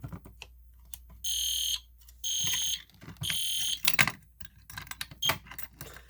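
A fire alarm system with a Gentex Commander 3 horn goes off after a pull station without its spring is pulled, sounding in loud repeated blasts with short gaps, mixed with clicking and rattling handling noises in between.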